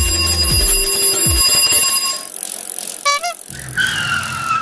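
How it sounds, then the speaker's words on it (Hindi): A cartoon kulfi ice cream cart announces itself with bright, tonal ringing and chiming, followed by a short jingling sequence and a higher melodic tone near the end, with no voices. "क्या आपने अभी कुल्फी वाली गाड़ी की आवाज सुनाई दी है क्या?"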